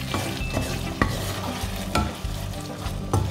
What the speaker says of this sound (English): As you can see, our chicken is boiling.